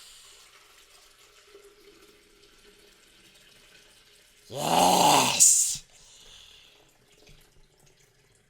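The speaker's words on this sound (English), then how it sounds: "So we will go ahead now and add our water." Water poured from a carafe into a Cuisinart coffee maker's reservoir, a loud splashing rush lasting about a second, with a quiet room before and after it.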